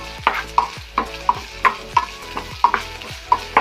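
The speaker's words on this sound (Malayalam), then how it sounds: "അപ്പോൾ നന്നായിട്ട് നമ്മൾ വഴറ്റണം" Chopped onion and a few green chillies are stirred in a pan for a leftover-dosa dish. A spoon strikes and scrapes it in a steady, regular rhythm, roughly three strokes a second, close and fairly loud over a low sizzle.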